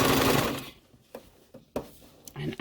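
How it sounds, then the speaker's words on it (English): A sewing machine stitches fabric in short bursts, a whirring run at the start followed by a few separate clunks and brief motor pulses, close by. "Okay, so I'm going to start sewing."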